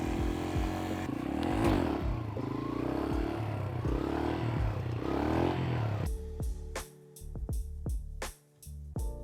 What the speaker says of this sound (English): And that's how you ride a dirt bike.